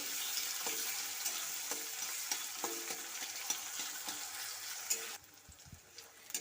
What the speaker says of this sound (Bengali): পেঁয়াজ কুচি হালকা করে ভেজে নেব